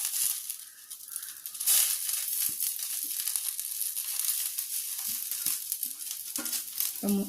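Whole, uncut drumstick leaves tossed into a hot frying pan for a jackfruit seed thoran give a steady close sizzle, with soft scraping and rustling as they are stirred through.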